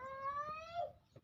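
A cat stepped on lets out one sharp, drawn-out yowl that holds a high pitch and then drops away, close and loud, followed by a faint rustle.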